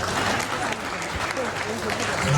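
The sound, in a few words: audience applause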